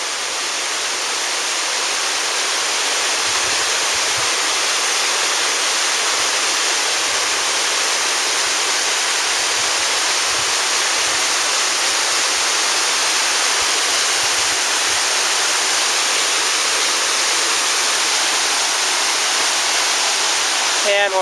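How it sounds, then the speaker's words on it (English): A waterfall on Kolob in Zion National Park roars as a dense, unbroken hiss at a steady level, filling the whole stretch with no variation and no voices. "And here's the better view of the waterfall."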